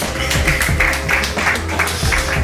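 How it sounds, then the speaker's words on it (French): A studio audience on a French interview show applauds guest Jérôme de Conévol with a continuous, even patter of many hands clapping at moderate loudness, with no break. "Je vous demande d'applaudir Jérôme de Conévol"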